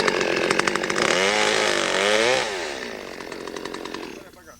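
A chainsaw cuts through a tree branch during pruning, loud and close, its engine revving and wavering in pitch as the chain bites, then easing off toward the end, with a voice briefly audible beneath the noise.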